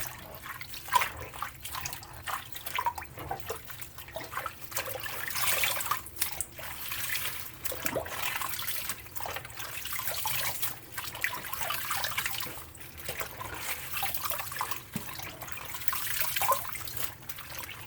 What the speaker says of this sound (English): Mix them in the water. Shake them in the water.